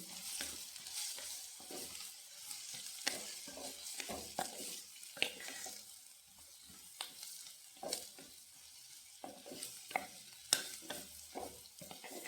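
Sliced broad beans are stirred in a pan, giving soft sizzling with repeated scraping strokes and occasional light metallic taps, fairly faint and close.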